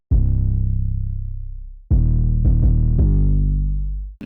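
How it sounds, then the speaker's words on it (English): Heavy sub bass notes driven through a Decapitator plugin for a bit of drive and distortion, in a hip-hop beat: one long decaying note followed by a run of short punchy hits, loud and alone. "For the sub, I used the Decapitator, that's like my go-to plugin for the sub, and I just gave it a little bit of drive and distortion."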